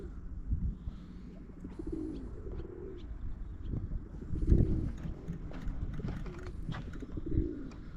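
Pigeons coo softly several times nearby, with fluttering and pecking at scattered bread in the background.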